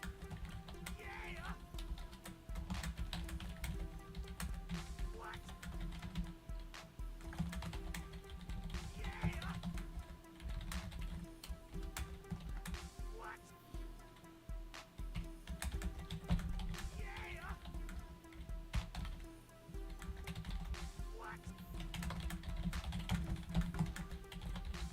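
Fast, continuous clacking of a computer keyboard being typed on rapidly, close and steady throughout, with a voice talking over it.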